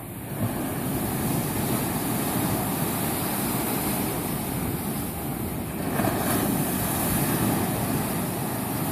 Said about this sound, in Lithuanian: Galima prieiti arčiau pasižiūrėti, kaip bangos dūžta